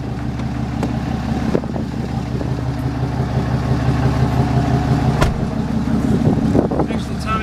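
A 2014 RAM 3500 Cummins diesel dually mega cab truck drives with a steady low engine drone and rumble heard from inside the cab, with a few clicks and knocks along the way.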